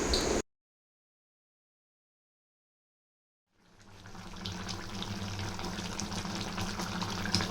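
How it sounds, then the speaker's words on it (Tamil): Chicken curry with a little water bubbles in a covered pot, a steady close hissing simmer that rises after a stretch of silence and keeps going evenly with no voices. "நல்லா கொதிக்குது, நல்லா சிக்கன் வந்து வெந்துருச்சு"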